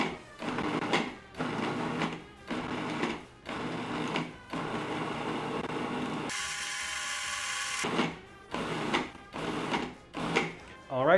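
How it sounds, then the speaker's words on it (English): A food processor pulses pastry dough with butter in repeated short whirring bursts with brief gaps between them, plus one longer steady run. The motor is loud and close. "we're just going to pulse our food processor here till everything is just one consistency"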